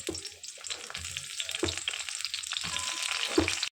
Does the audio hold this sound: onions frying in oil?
yes